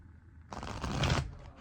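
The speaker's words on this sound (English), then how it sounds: "Cards don't want to shuffle." Tarot cards being shuffled in a dense riffling burst lasting under a second, close and fairly loud, with quiet surroundings before and after.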